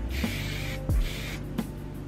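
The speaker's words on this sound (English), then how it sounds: "So I'm just going to take that same spray, give it a little bit more, just for some more texture." Hair spray misted onto curled hair for texture, with two sustained hissing bursts of aerosol spray, close and fairly steady, separated by brief pauses and light handling noise.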